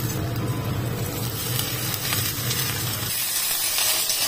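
Bottle gourd peels go into hot oil in a home kitchen and sizzle with a bright, steady hiss that drops away partway through.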